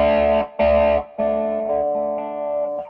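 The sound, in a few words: electric guitar through distortion pedal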